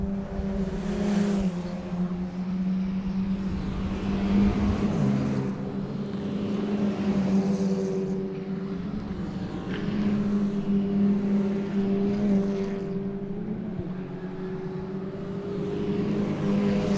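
Race cars lapping the Mondello circuit during a club race, engines droning and revving continuously for the whole stretch, with rising and falling passes at moderate distance and no voices.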